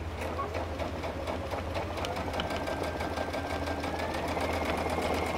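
A sewing machine steadily stitches terry cloth for a burp cloth, giving a continuous even whir with a fast rhythmic needle pattern at close range and no talking.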